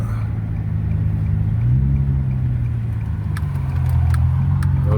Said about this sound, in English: the car drive normal now with no shaking, no nothing, no transmission slip